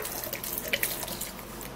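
Running water splashes and gurgles steadily at close range as it is poured into a blender, with a few brighter splashy bursts.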